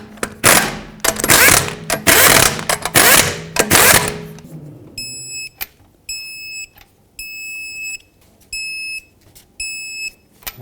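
Five lug nuts being tightened on a Toyota Prius wheel: several loud buzzing bursts from a power tool, then a run of short, sharp, high electronic beeps separated by brief pauses.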